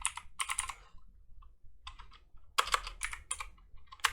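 Someone types a house name into Old School Runescape on a computer keyboard, giving close, crisp bursts of rapid key clicks separated by short pauses.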